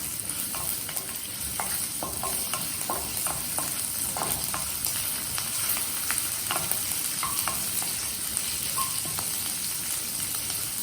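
Green chillies stirred in a frying pan while preparing paneer in yoghurt, a steady close sizzle with repeated scraping clicks of the spoon against the pan.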